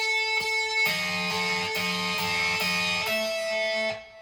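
Guitar notes ring into each other, overlapping and clashing as several sustained tones blend, then fade out at the end.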